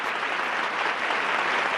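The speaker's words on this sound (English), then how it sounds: "A big round of applause for Discovery 3" A crowd gives a steady round of applause for a performing act at a live show, dense even clapping with no breaks.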